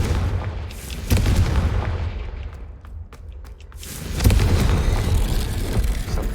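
Explosive Confringo spell blasts in the Hogwarts Legacy video game, a loud booming burst around one second and another heavy blast near four seconds, each followed by rumbling debris over constant game ambience.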